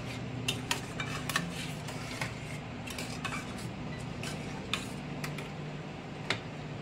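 Milk and water get stirred in a pot for parwal pulao, heard as quiet, scattered light clinks and taps of a utensil against the vessel over a soft low background; no voices.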